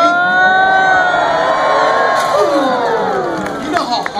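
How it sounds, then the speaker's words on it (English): A live audience cheers wildly at a Mousetrap-style contraption show as the ball heads to the lifter, a dense roar of whoops and screams at close range, with voices rising and swooping throughout. "You are now cheering wildly."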